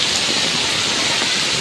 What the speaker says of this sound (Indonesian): Hujan angin.